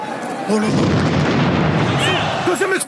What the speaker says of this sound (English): Second explosion at the Stade de France.